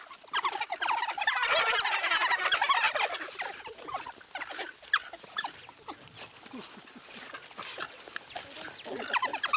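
African wild dogs vocalizing, a dense chorus of high chirps, squeals and twittering calls that is loudest early on, then thins into scattered yelps and whines.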